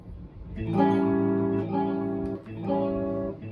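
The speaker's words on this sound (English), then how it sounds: "I'm gonna loop this A dominant 7 chord" A strummed A dominant 7 guitar chord rings out and repeats in a loop, each strum sustaining before the next, moderately loud with no voices.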